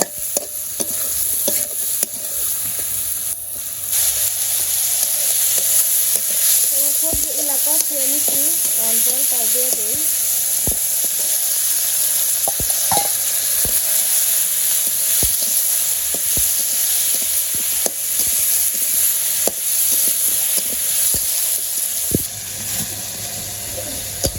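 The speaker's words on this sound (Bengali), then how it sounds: "আমি সবজিটা ভালো করে কষিয়ে নিই" Vegetables sizzle steadily in a pan in a village kitchen as they are sautéed, a constant close frying hiss broken by intermittent scrapes and knocks of stirring, with a faint voice-like sound briefly in the middle.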